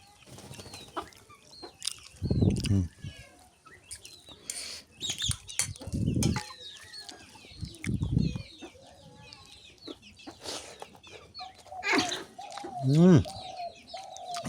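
Hens cluck and squawk close by in a village, with several bursts of wing flapping and scattered calls, while people talk quietly in the background.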